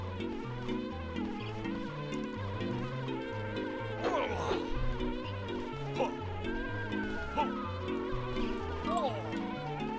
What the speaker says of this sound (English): These wasps, hornets, striped devil insects are also making me nervous.